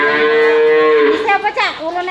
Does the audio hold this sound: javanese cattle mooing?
yes